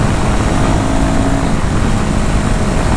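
Riding a Royal Enfield Himalayan 450 motorcycle produces a loud, constant roar of engine and rushing wind, steady and unbroken throughout, close to the microphone with no speech.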